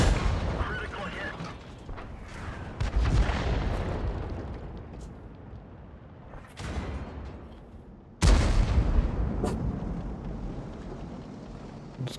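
Heavy gunfire cracks out in loud close bursts, two big blasts around three and eight seconds standing out over rumbling echoes, with voices talking in between.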